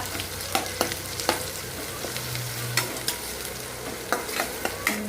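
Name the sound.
onion frying and being stirred in a pan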